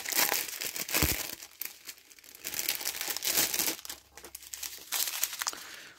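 Packets of diamond painting rhinestones being opened, with close, loud crinkling and tearing of plastic bags in bursts over several seconds, no talking.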